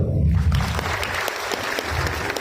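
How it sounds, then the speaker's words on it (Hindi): A classroom audience at an on-site Python class claps together, a dense burst of applause running the whole moment with low murmur beneath. "अपने लिए तालियां।"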